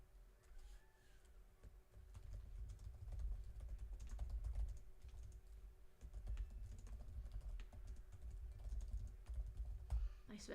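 Keyboard being pounded on at some distance from a microphone during a livestream, a steady run of quick clacky keystrokes over low room rumble.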